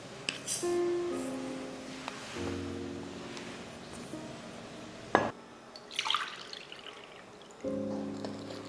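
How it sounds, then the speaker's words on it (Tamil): Water pouring into a container of rice flour with a rising gurgle, followed by a sharp knock, brief stirring and scraping of the thin batter, then more pouring. "ஒரு கப்பு கூட மூணு கப்பு தண்ணி சேர்த்து தண்ணி மாதிரி மாவை கரைச்சி எடுத்துக்கலாம்"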